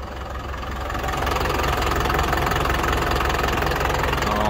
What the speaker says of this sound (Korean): 엔진 소리도 들어보시면